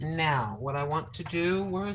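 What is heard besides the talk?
No everyday noise stands out behind the speech.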